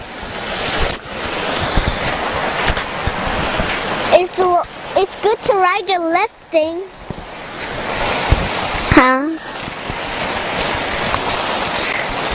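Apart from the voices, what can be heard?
flowing stream water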